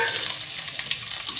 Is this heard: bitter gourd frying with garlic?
yes